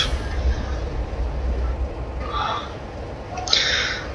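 A class 33 diesel locomotive hauling a spoil train on a branch line in Train Simulator 2015 rumbles steadily, with a couple of sharp hissing brake releases breaking through the low engine drone near the end.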